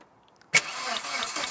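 An 80s hot hatch classic car, a barn find survivor, fires up with a sharp catch after a quiet pause, then runs on at a low idle, heard close and fairly faint.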